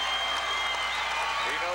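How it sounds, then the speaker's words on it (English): A large crowd roars and applauds steadily at the 1989 IHSA Individual State Wrestling Championships, a dense, continuous wash of cheering in an arena, with a voice talking faintly over it. "And the crowd starts to cheer with 8 seconds to go."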